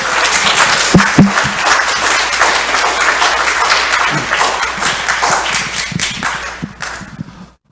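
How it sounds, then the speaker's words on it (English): A crowd applauds steadily for several seconds, dense clapping near and loud, fading out at the end. "one more round of applause for our newest members"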